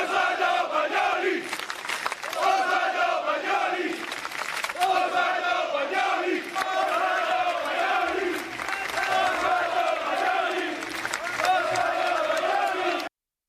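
Football supporters chant together at their coach's funeral in a town square, a loud, sustained crowd chorus of rhythmic, rising and falling phrases filling the whole stretch.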